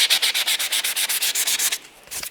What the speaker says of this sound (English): Peel the tape off, sand all that like that.